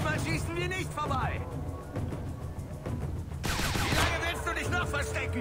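Gunfire in Splinter Cell Conviction, rapid bursts of shots mixed with game effects and music, loud and close, with someone speaking German over the action.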